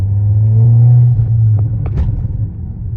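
A 420 hp 2019 Volkswagen Arteon gives a deep, loud engine rumble while driving on a tight road, holding steady at first and then easing off, with a few faint knocks near the end.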